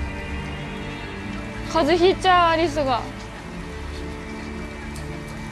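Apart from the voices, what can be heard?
rain falling, from video game Detroit: Become Human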